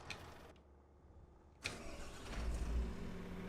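A truck engine in Farming Simulator 25 cuts out briefly, then starts up and settles into a steady, low running drone on the drive into the farm, with no talk over it.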